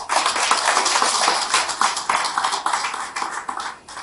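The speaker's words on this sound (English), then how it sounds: "can we give her a round of applause?" Audience at a human rights conference hosted by the NBA in Ikeja breaks into sustained, dense applause, loud and steady before tapering slightly at the end.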